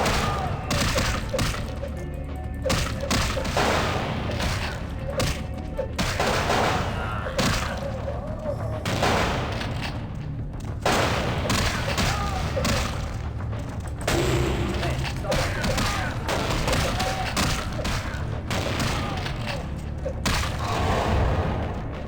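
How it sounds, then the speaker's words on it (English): Gunfire in the video game Vampire The Masquerade Bloodlines, repeated loud shots and bursts with booming impacts throughout, broken by short pauses, with voices talking during the fight. "That is a lot of shooting"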